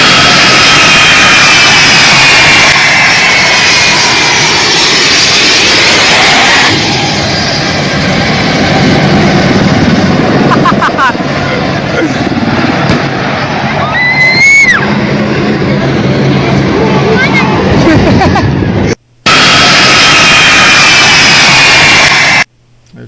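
A U.S. military transport plane takes off from Kabul airport, its jet engines roaring loudly and continuously with rising whines and shifting tones, while a crowd sound runs underneath, broken by a short gap near the end.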